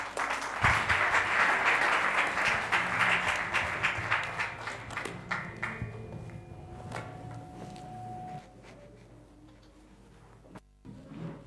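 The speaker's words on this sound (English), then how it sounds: "Give the Lord and clap, please." A church congregation in Kawangware claps in a loud, full burst that gradually thins into scattered, slowing claps before falling almost quiet at the end.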